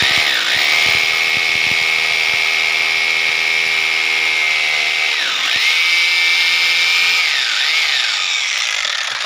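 A power drill with an 8 mm bit boring into a brick wall, loud and close with a sustained high whine that dips briefly twice as pressure shifts, running almost without pause.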